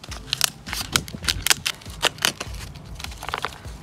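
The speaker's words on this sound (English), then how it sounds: "You might have to use the scissors again." Irregular crisp snips and crunchy scissor cuts, close by, with rustling and crinkling of plastic between cuts, while trimming a Sarracenia pitcher plant.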